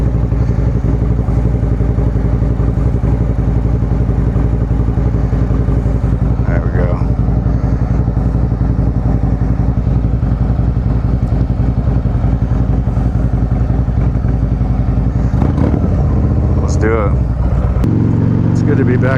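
A motorcycle engine drones steadily and loudly throughout, with wind noise, rising and falling slightly as the rider moves, and a few brief clunks near the end.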